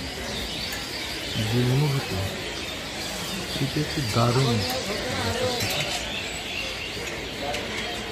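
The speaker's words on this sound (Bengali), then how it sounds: "পাখির কিচিরমিচির শব্দ" Many birds chirp and call from the trees of a bird sanctuary, a busy natural chatter in the background while a person speaks over it.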